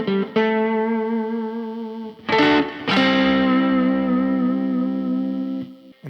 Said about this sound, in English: So let's go back to the neck and let's put on a tube screamer.